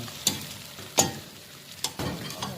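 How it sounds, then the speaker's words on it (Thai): Pork and vegetables are stir-fried in a pan, with a faint steady sizzle broken by a few sharp, close scrapes and clacks of a utensil against the pan. "ใส่ผักลงไปผัดนะคะ ลงไปผัดมันจะอร่อยให้มันหอมแค่นั้นเอง"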